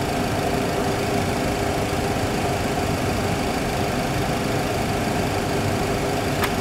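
An aircraft jet engine during its start sequence gives a steady, loud, continuous roar that holds at an even level throughout, with no voices over it.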